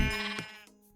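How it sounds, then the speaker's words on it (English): A sheep in the video game Minecraft gives a single short bleat, close and clear, ending in a brief click. "There you have a baby sheep."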